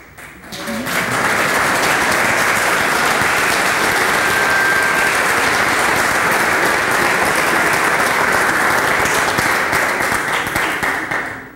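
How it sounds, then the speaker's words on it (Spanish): An audience at a talk by Humberto Maturana breaks into applause after a quiet second, swelling into a full, steady round of clapping that holds loud and even before tapering at the very end. "Agradezco los aplausos."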